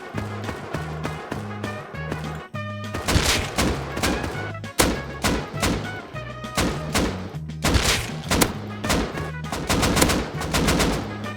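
Rapid gunfire from Rust, the survival video game, comes in dense bursts of automatic shots, loud and close, punctuated by sharp single cracks and thumps, with short pauses between volleys.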